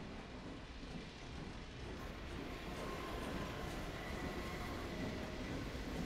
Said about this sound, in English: Hey, a train!